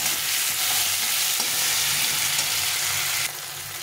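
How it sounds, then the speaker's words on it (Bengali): Chopped tomato and onion frying in a pan for a katla fish curry, producing a loud, steady close sizzle with stirring throughout that drops slightly near the end. "টমেটো আর পেঁয়াজটাকে ভালো করে ভেজে নিচ্ছি"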